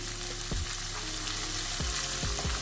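Vegetables for veg fried rice frying in a hot pan, a steady close sizzle with a few sharp stirring knocks of the spoon against the pan.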